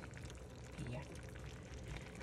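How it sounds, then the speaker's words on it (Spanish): Water pours into a pot of beef stew with carrots and celery, a steady close liquid rush under a speaking voice. "Yo le voy a poner un poquito más de agua aquí."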